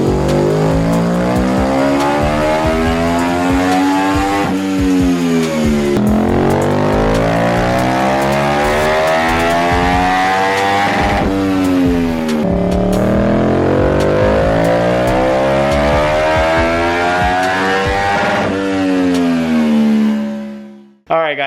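A 2023 Yamaha MT-10 motorcycle fitted with an M4 exhaust and tune revs up through the gears in repeated long pulls, each rising pitch sweep ending with an abrupt shift, loud and close, then cutting off sharply.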